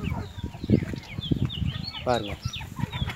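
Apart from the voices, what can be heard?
chickens clucking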